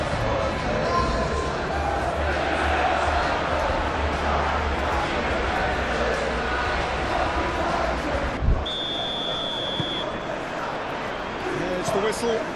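Capacity stadium crowd at a Premier League football match between Manchester United and Bournemouth, a steady broad roar and murmur filling the ground throughout, with a short whistle-like tone partway through.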